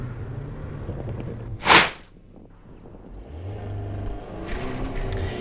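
An Alpine A110 S 2023 running a moose test and cone slalom, its engine droning at moderate distance with a sharp whooshing burst as it passes, then the engine note rising again as the car accelerates away.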